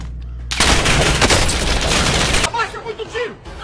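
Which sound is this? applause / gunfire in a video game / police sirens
gunfire in a video game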